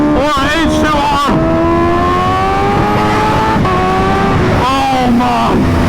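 A Kawasaki Ninja H2R superbike with a Van Diemen exhaust screams up through the revs in a loud, rising whine, shifts with a sharp drop in pitch, then climbs again under a steady wash of roaring noise.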